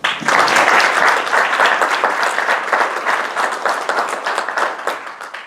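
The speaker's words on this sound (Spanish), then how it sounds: "Un aplauso, por favor." Audience applause greets the director of LOM Ediciones at a book launch in an institute hall, a dense, steady clapping from a sizeable crowd that sustains loudly for several seconds with no talk over it.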